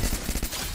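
Rapid UZI submachine-gun fire in the shooter game Free Fire, a dense run of quick, loud shots in an uneven rhythm with no pauses.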